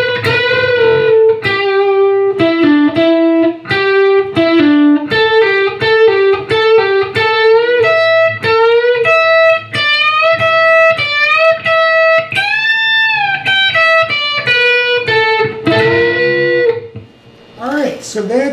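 Distorted electric guitar lead, a sustained melodic line of picked notes and unison bends, loud and close, played alone without talking.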